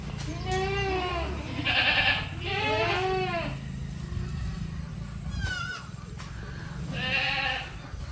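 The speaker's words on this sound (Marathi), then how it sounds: "सर्व शेळ्या वैरण खायची वाट बघत आहेत" Several goats in a shed bleat in turn at feeding time, loud wavering cries close by with short pauses between, over a low background rumble.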